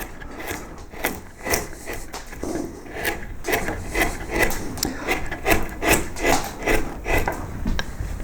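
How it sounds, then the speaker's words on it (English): A carving knife slices across the wood grain while shaping the tail of a carved wooden koi carp, giving short, rhythmic scraping strokes close up, repeated steadily with no talking. "You'll have to come across the grain like this, with this slicing cut like that"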